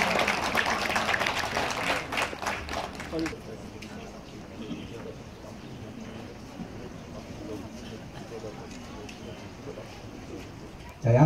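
Guests at a traditional Korean wedding clap loudly for the bride and groom as they bow, a dense burst of applause for about three seconds. It fades into quieter room murmur and talking.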